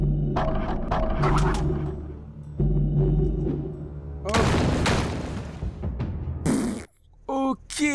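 Deep booming explosions in the video game Mark of the Ninja hit in several heavy bursts, with droning tones and short sharp effects in between, mixed over the game soundtrack.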